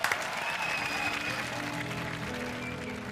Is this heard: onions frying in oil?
no